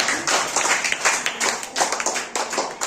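A group of children clapping hands together in a quick, uneven patter of overlapping claps, fairly close and sustained throughout.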